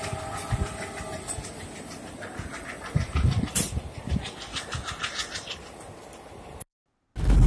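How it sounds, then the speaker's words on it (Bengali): A passenger train pulls out of Bagnan station after letting people off, its wheels rattling and clacking on the rails at a moderate distance while birds chirp nearby; the sound cuts out briefly near the end. "ট্রেন আমাদের নামিয়ে দিয়ে চলে যাচ্ছে।"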